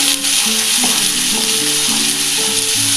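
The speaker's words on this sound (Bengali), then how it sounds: "মশলাটা দিয়ে একটু ভালো করে ভেজে নেব হালকা ভাজবো বেশি ভাজবো না" Masala with Kashmiri chili powder sizzles steadily in a hot pan for chilli paneer, a constant bright frying hiss with faint stirring under a low tonal hum, no talk.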